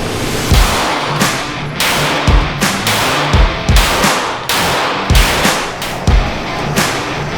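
A Staccato pistol fires at a shooting range: loud, sharp shots in quick bursts of two or three, about a dozen in all, with short echoing gaps between groups and no talking.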